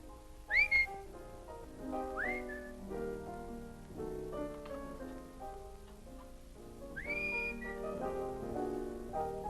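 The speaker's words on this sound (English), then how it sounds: "How do you expect me to whistle through a toothache?" A person whistles a lilting tune alone in a quiet room. The clear notes rise and fall with short pauses between phrases.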